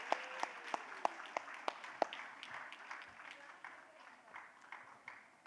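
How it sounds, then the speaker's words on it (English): Audience applause at a live stage event welcoming a guest, with a few sharp, distinct claps up front over a steady wash of clapping that fades slightly toward the end, plus a faint voice cheering. "A louder round of applause."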